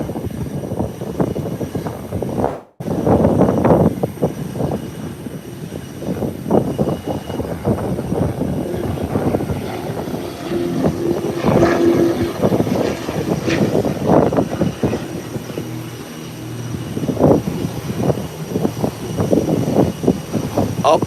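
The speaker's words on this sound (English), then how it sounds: "Up and away, up and away. Beautiful, beautiful. Nice takeoff." An airplane takes off at Howard Hamilton International Airport, its engine roar loud and close and swelling and fluctuating as it climbs, with a brief cut near the start and no talking.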